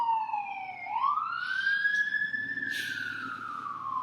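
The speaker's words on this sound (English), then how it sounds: "I can hear a siren coming." An emergency vehicle siren wails on a quiet holiday street in Boston, one long rising and falling sweep that grows louder as it approaches, heard on its own with faint traffic hum beneath.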